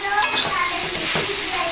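Fish chorchori stirred and fried in a pan: a close spatula scraping through a continuous sizzle, with a couple of sharper scrapes standing out.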